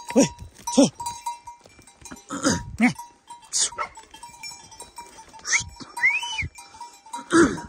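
Goats returning with their herder bleat several times in short calls spread across the scene, fairly close, with a faint tonal ring like a bell and some background voices.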